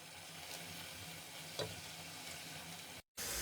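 Tomato paste masala sizzling steadily in a pan while cooking for an egg and keema korma, with a continuous hiss of frying, a brief stir near the middle, and a short dropout of silence near the end.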